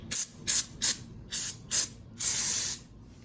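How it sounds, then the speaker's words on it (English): Brake cleaner sprays onto RC car bearings and parts in short, sharp hissing bursts: five quick blasts, then one longer spray. Each is close and loud, with near silence between, and no one speaks. "What I like to use to clean up my bearings and all my parts is just a toothbrush you're not gonna use, and some good old brake cleaner."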